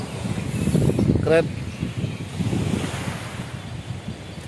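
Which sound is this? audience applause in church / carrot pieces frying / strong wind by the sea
strong wind by the sea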